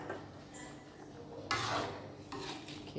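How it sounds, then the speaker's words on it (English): Radish and carrot sambar with jaggery being stirred in a pan, soft close scraping and rubbing strokes of a spoon against the metal in a few short bursts. "mix it well."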